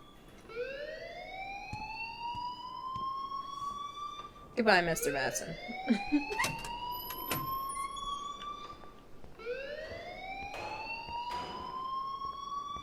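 Repeating rising electronic alarm tone in Life is Strange Remastered, sweeping up in long wails that sound three times with a pause in the middle, while characters talk over it.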